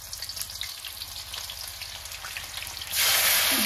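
Spices tipped into hot oil in a home kitchen, cooking alongside native duck meat, with a steady close sizzle and crackle throughout that swells into a loud, bright hiss near the end.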